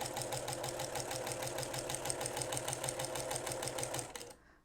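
Walking-foot sewing machine stitching at a steady, fast rhythmic chatter of needle strokes, close and loud, running alone for about four seconds before stopping abruptly.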